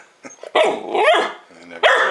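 A dog barks at her reflection in a mirror: two loud, close, harsh barks with a short gap between them, preceded by a few small yips.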